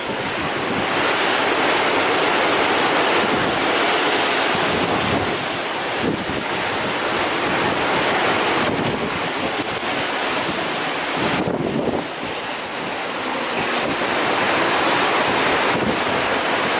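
Loud, continuous roar of ocean surf and strong wind buffeting the microphone while rounding Cape Horn by sea, with brief dips in intensity but no let-up across the whole stretch.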